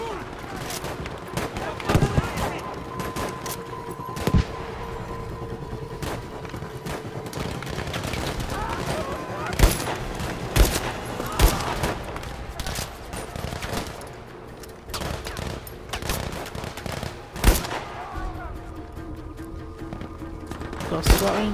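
Gunfire in the World War II shooter Battlefield V, with bursts of rifle and automatic fire and sharp shots cracking over a busy battlefield din for the whole stretch, while someone talks now and then.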